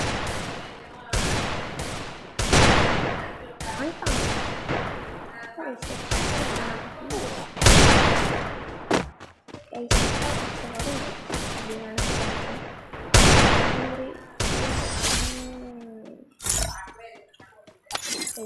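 Gunfire in a shooting video game, with loud repeated bursts and single shots cracking close in uneven volleys, some with clinking, set against game ambience.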